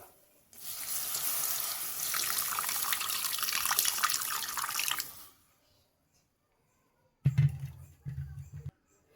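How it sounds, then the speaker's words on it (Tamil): Tamarind water poured into a pot of tomato rasam, a steady loud splashing stream for about five seconds, then a pause and two short heavier pours near the end. "கொஞ்சமாக புளி கரைச்சி வச்சுருக்கேன் அதை இதில் ஊற்றிக்குவோம்"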